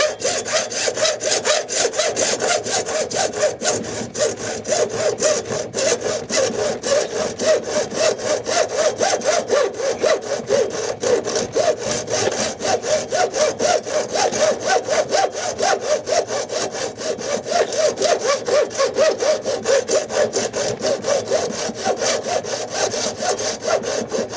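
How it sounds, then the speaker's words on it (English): A hacksaw cuts through metal stock at the edge of its knurling while building copper bells, with steady, rapid back-and-forth strokes running loud and continuous throughout, no voices. "The hacksaw is good for this because it can be very precise."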